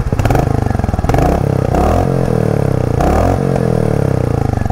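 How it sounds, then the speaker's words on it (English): A Royal Enfield Meteor 350 single-cylinder air-cooled motorcycle engine revving up and down repeatedly, loud and close, with a thumping, clattery exhaust note and pops and bangs. "the single cylinder air-cooled oil engine sounds like a proper"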